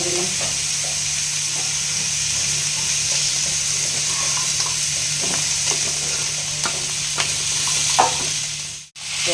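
Ridge gourd sprinkled with salt fries lightly in a pan, giving a continuous close sizzle with stirring scrapes throughout and no talk.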